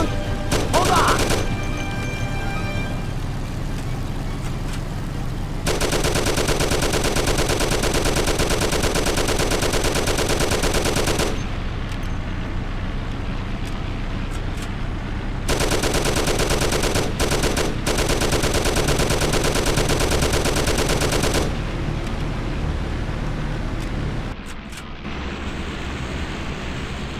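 Long, loud volleys of automatic gunfire in Mafia: The City of Lost Heaven rattle in sustained bursts broken by short pauses, with engine rumble and scattered single shots underneath.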